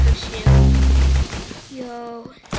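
Rapid bursts of minigun fire in the video game Arsenal, loud and dense in two stretches, followed by a quieter tonal sound near the end.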